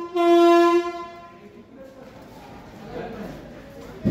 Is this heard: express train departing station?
yes